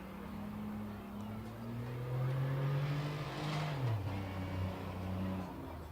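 A Pontiac Grand Prix race car circles a short speedway during qualifying, its engine droning at a steady distance, swelling and shifting pitch as it laps under faint background noise.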